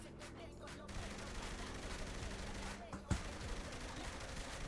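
Rapid gunfire crackles in Saints Row 3 Remastered, a dense continuous volley mixed with game noise, fairly loud, with one sharper shot near the end and speech partly over it.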